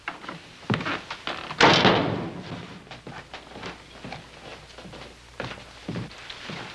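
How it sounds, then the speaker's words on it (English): A door shut in an old Western hotel room, with a loud thudding slam followed by quieter bumps and footsteps-like knocks in a fairly quiet interior. "Shut the door, will you?"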